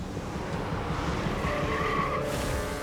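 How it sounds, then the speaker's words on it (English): A woman's car skids and plows through a bakery window in a 2004 crash, a loud, sustained rush of tire and engine noise with a rising squeal, ending in a sudden bright burst. "a woman plows her car through the window"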